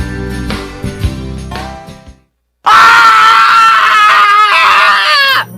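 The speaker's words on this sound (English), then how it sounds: "he gets so excited he runs around town screaming and telling everyone" A man screams loudly in a radio commercial: after a short stretch of music and a brief silence, a long, harsh, sustained yell breaks in and runs almost to the end.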